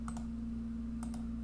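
Two quick pairs of soft clicks from a computer mouse on a Mac, heard close and faint over a steady electrical hum.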